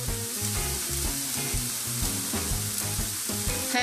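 Cheeseburger pie filling, seasoned with adobo all-purpose seasoning, sizzles steadily in a pan while being stirred, with a continuous close fry and a faint rhythmic tonal pattern underneath.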